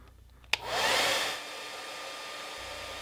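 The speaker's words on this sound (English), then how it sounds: "Take either a blow dryer or a heat gun and heat each edge for 30 seconds." A blow dryer or heat gun switches on with a click and blows a steady, loud hiss of hot air onto the edge of a repaired PVC pipe, with no voices.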